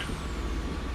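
A bus pulling up, a dense hissing rush of air brakes and engine rumble heard close for a brief moment, with no talk.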